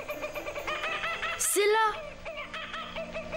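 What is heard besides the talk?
laughing kookaburra calling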